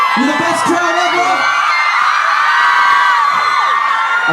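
A large crowd at a Christmas light switch-on cheers and whoops loudly, a dense sustained roar of many voices with scattered high shouts from children throughout.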